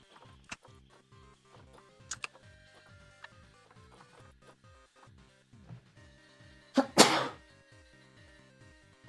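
A single sudden sneeze bursts out loud and close midway through, over soft ticking game sounds and faint background music in a zoo-building game.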